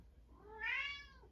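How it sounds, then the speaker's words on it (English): A single cat named Appa gives one faint, rising meow in the background, about half a second long, in an otherwise quiet room. "I don't know if you can hear in the background, that's one of my cats"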